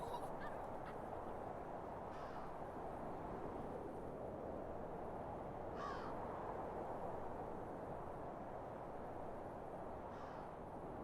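Crows caw a few times at a distance in The First Tree video game, faint calls spaced apart over a steady wash of wind or ambient noise.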